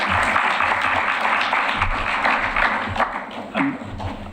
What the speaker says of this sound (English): I'm going to have to ask everybody to refrain from applauding from the testimony